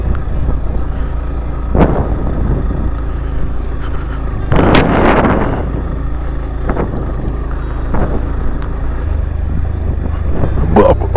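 A car crawls off-road over big sharp stones on a rough mountain track in Spiti valley, its engine a steady low rumble with wind buffeting. A harder surge of crunching and rattling rises briefly near the middle.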